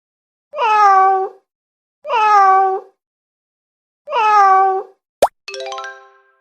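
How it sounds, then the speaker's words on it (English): Three separate, clear meows from a cartoon cat, evenly spaced and loud, then a quick plop and a twanging boing effect from a children's animal-sounds cartoon. "cat"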